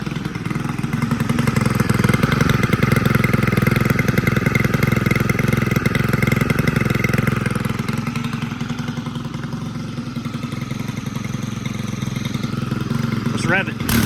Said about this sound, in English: I love the sound of these 4MX engines. These particularly sound like a dirt bike or a ATV or four-wheeler.